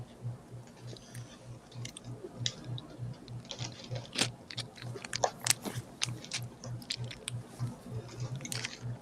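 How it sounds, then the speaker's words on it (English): Someone eats pistachios close by with sharp cracks and crunchy bites of the shells, scattered irregularly over a faint steady rhythmic ticking in the background. "You're eating pistachios?"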